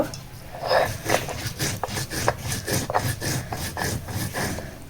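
Cumin is ground by hand on a stone grinding slab, giving a fairly faint series of rhythmic scraping strokes.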